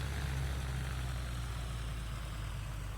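Lycoming piston engine of a Carenado Cessna 182RG in Microsoft Flight Simulator gives a steady, loud, low droning rumble that holds an even tone without a break.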